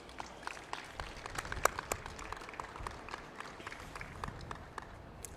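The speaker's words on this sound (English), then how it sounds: "One more round of applause for Josh." Scattered applause for a league rookie at an All-Star game event, faint and distant, with sparse individual claps rising and falling for a few seconds.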